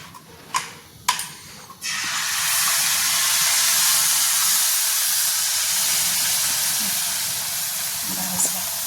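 Sel roti batter dropped into hot refined oil, a few sharp splashes first, then a steady, loud sizzling hiss of frying that holds for several seconds.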